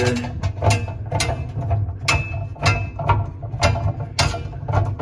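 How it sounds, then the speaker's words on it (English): A bolt being unscrewed on the rinse arm of a Hobart commercial dishwasher, heard as a close series of sharp, metallic ratchet-like clicks and scrapes in an uneven rhythm, with no talking. "You just go ahead and unscrew this bolt here."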